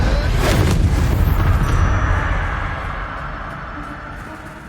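A Confringo fire spell explodes in the Hogwarts Legacy game, a loud, deep booming blast with a rumbling tail that fades slowly over a few seconds.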